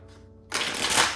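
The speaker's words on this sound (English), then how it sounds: "we're going to shuffle up and deal" A deck of cards is shuffled up close, starting after a quiet pause as a sudden, loud riffle that builds into a continuous fluttering burst.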